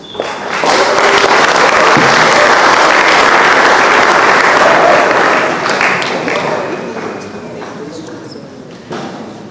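A loud burst of applause from a church communicators workshop audience, many hands clapping densely right after a talk ends, gradually thinning out over several seconds with voices mixed in.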